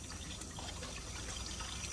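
Steady hiss of running tap water while something is rinsed in a kitchen, faint and continuous for two seconds with no talk.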